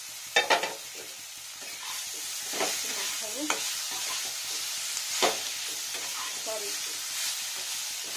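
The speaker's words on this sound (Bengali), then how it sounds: "রসুনটাকে ফ্রাই করতে হবে" Garlic and vegetables fry in a pan with a constant sizzle, broken by scraping stirs and clattering spatula knocks, while a voice speaks briefly once.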